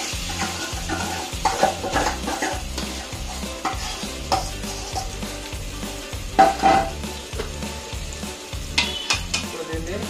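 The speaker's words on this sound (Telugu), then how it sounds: "ఇప్పుడు దీన్ని మంచిగా మిక్స్ చేయండి" Prawn biryani curry with added sauce stirred in a pan, a spoon scraping and sloshing in steady repeated strokes over a soft continuous sizzle, close and fairly quiet.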